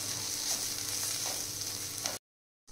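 Ridge gourd masala with turmeric, red chilli and garam masala frying steadily in a pan, a continuous close sizzle with faint stirring scrapes, no talking.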